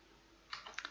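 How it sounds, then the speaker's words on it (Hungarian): A computer mouse clicks twice in quick succession, sharp and close, after a moment of near silence in a quiet room. "Kattintsunk duplán a parancsgombra."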